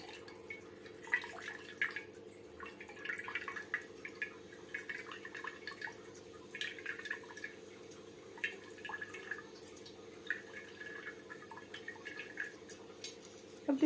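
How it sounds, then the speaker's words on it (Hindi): Water drips from squeezed chhena hanging in a cloth, faint scattered drops falling at an irregular pace over a quiet steady background hum. "अब देखिए इस तरीके से पानी निकल रहा है"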